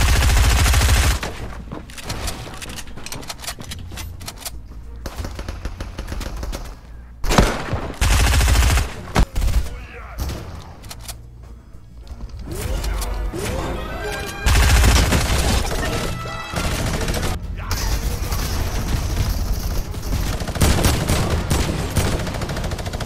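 Bursts of sustained rapid minigun fire in Fortnite come in loud stretches broken by pauses and single shots, with a player talking over the gunfire.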